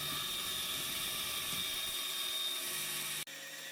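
Table saw cutting into a wooden jig up to its stop, a steady high whining drone held for about three seconds before the blade load drops off abruptly.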